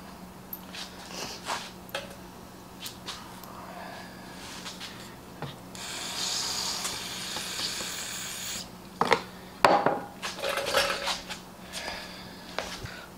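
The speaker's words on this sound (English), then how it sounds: "Now let's put some head bolts in." Cylinder head bolts go into a Stihl MS460 chainsaw during a rebuild, giving quiet, close metallic rasping, scraping and light clicks as the bolts are threaded and turned, with brief sharper ticks near the end.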